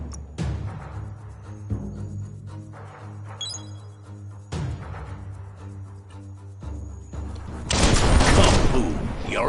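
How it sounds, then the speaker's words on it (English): In Biomutant, an explosive object is shot until it blows up: scattered game sounds and talk come first, then a loud, sustained blast bursts in near the end. "Shoot it and watch it blow."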